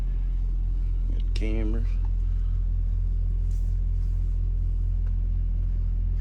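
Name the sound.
Foretravel Grand Villa Unihome motorhome engine running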